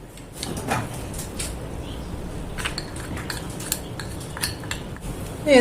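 Homemade chocolate made with milk and white chocolate is stirred in a bowl, with steady scraping and clinking of a utensil against the bowl, close and continuous, plus a louder knock at the end.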